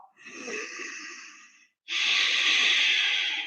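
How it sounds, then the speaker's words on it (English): Two long, hissing ujjayi ocean breaths drawn through a constricted throat during a beginner yoga flow, close and steady, the second louder and fuller after a short pause. "So you hear that breath noise that I'm making?"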